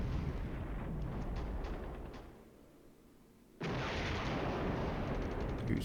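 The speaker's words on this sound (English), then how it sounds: "That's continued bombardment of this tank." Artillery bombardment of a tank in the Flashpoint Campaigns Cold War video game: dense, continuous rumbling blasts that dip briefly, then slam back in at full strength with a sudden loud onset and keep roaring.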